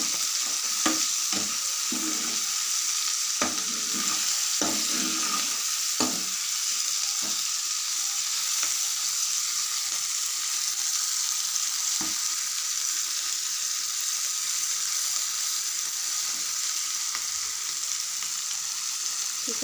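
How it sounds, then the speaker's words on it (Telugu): Chutney ingredients fry in a hot pan with turmeric, giving a constant close sizzle broken by occasional scrapes and stirs of a spoon against the pan, with no one speaking. "మొత్తం అంతా కూడా బ్రౌన్గా తయారైపోయింది, బాగా ఫ్రై అయిపోయాయి"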